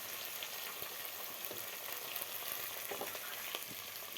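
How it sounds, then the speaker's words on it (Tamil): Ground masala paste frying in hot oil, a continuous soft crackling sizzle with occasional pops and stirring sounds, close and quiet, no voices. "இப்போ அரைச்சி வச்சதெல்லாம் சேர்த்துக்கலாம் எண்ணெயில். இந்த அளவுக்கு நல்லா எல்லாம் பொரிஞ்சு வரணும்."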